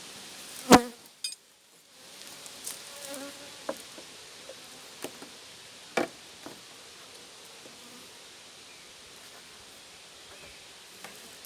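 Honey bees buzzing at an open hive during a honey flow, a steady soft drone with scattered close fly-by buzzes, a couple of sharp handling knocks early on.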